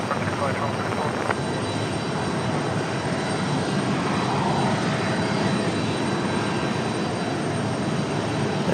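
A Delta airliner at Raleigh-Durham International airport gives off a constant, moderately loud engine rumble and hiss, steady across the whole stretch, with no talk over it.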